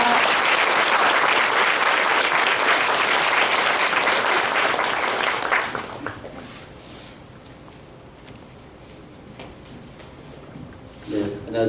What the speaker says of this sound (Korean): 힘찬 큰 박수